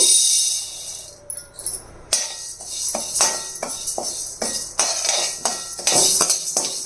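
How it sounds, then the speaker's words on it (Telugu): Moong dal dry-roasting in a pan, heard as a series of sharp metallic clinks and scrapes of a spoon against the pan, irregular and close, with quieter gaps between strokes. "ఇప్పుడు పెసరపప్పు వేగించాలి"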